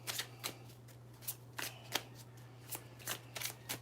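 Tarot love cards being shuffled by hand, close up, in a rapid run of about a dozen crisp riffling bursts with brief gaps, over a steady low electrical hum and no talking.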